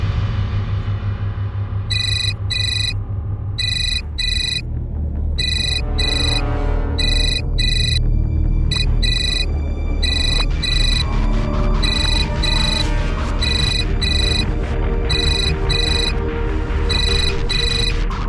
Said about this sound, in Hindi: ये सुनंदा गायत्री को क्यों फोन कर रही है